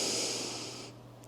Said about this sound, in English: So I will inhale through the nose